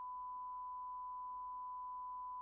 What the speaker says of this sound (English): Sine wave is only making sound.